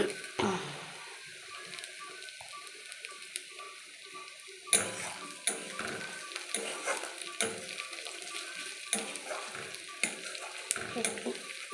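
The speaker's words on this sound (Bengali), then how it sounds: "কুচনো পেঁয়াজ রসুনটা ভাজা হচ্ছে" Chopped onion and garlic fry in a pan for crab curry, producing a soft, low sizzle with light spatula scrapes and taps, quiet and close throughout.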